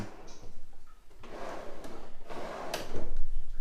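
A cabinet drawer in a house vanity slides open and shut on its track, giving a few rough rumbling scrapes with light knocks, close and moderately loud, with no voices.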